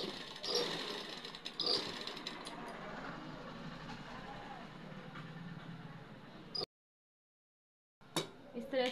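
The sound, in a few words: sewing machine stitching a blouse seam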